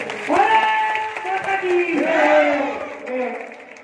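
A crowd at a tribute event in Dewas cheers and shouts loudly and without a break, with a roaring swell that rises again partway through.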